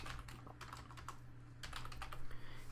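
A profile name is typed on a computer keyboard in a quiet room, a quick run of soft, close key clicks with a brief pause midway, under a steady low electrical hum.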